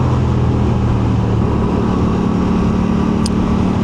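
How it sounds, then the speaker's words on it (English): Aprilia Tuono 457 motorcycle engine on a test ride, a loud, steady engine drone with a smooth, even tone close by, with no talk. "Engine note is beautiful."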